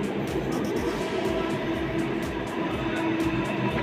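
A Delhi Metro train arrives at a station: a loud, steady rumble and hiss with faint rhythmic clicks from the wheels running through.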